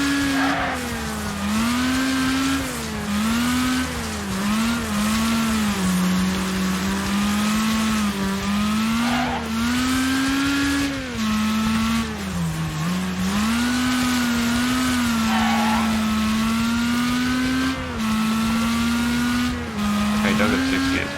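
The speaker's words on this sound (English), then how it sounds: "This car definitely does not sound as good as the last car, which is a right shame." A car engine in the Gas Station Simulator video game drones and revs steadily with rising and falling pitch, shifting through gears, with faint tire squeal and a voice talking over it throughout.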